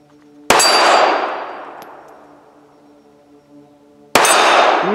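Two sharp, loud reports from a Ruger LCP Max pistol fitted with an upgraded Galloway Precision Sigurd trigger, spaced a few seconds apart, each ringing out with a long decay, and a faint small clink between them.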